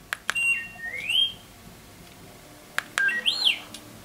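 A full-size R2-D2 build plays remote-triggered droid sound effects. Sharp clicks start short, sweeping electronic whistles and chirps, with a warbling burst near the end and a quiet gap between them. The sounds are close and there is no speech.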